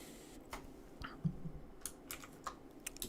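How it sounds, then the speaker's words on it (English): Keys on a computer keyboard click faintly as a shortcut is pressed during a digital painting session, a few scattered light taps over quiet room noise. "That is one shortcut, keyboard shortcut that I do use all the time."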